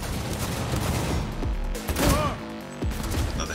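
Rapid bursts of gunfire from the video game Cyberpunk 2077, layered with game sound effects and dense, loud shots throughout, swelling around the middle.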